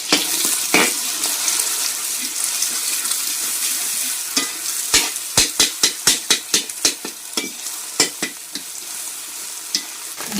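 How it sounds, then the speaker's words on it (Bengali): Beaten eggs fry in hot ghee in a wok with a steady sizzle. A run of sharp spatula scrapes and taps against the pan clusters in the second half; no one speaks. "ডিমটাকে আগে ভেজে তুলে নেব।"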